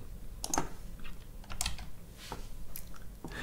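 Keys on a computer keyboard are tapped in short, irregular bursts, producing close, soft clicks with brief pauses between them.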